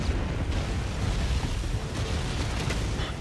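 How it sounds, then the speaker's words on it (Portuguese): Explosions in the Spider-Man: Miles Morales video game: a continuous, rumbling roar of blasts and debris, moderately loud and sustained throughout, with no talk. "O que é isso que tá explodindo?"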